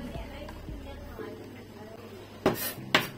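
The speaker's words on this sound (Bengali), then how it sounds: "গ্রেটারের গায়ে লেগে থাকা বিটরুটগুলো আমি ছাড়িয়ে নিচ্ছি" Grated beetroot being scraped off a metal grater in a home kitchen, heard as a few sharp metallic scrapes and clinks near the end over faint background hum, with no talk.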